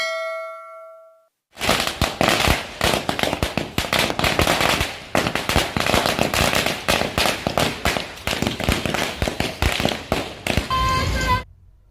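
A long, dense string of firecrackers bursts in rapid crackling pops, loud and close, during an MNS street celebration in Badlapur over Marathi gaining classical language status, after a brief tonal sound and a silent gap, ending with a few ringing tones.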